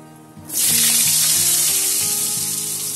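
Potatoes dropping into hot oil in a pan with cumin seeds burst into a loud, steady sizzle after a brief quieter start, the frying hiss staying strong and close throughout.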